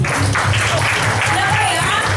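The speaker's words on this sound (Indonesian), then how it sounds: "Tepuk tangan yang keras dong." Applause at a sales meeting for the week's top producer, a short patter of clapping heard beneath a speaker who keeps talking over it.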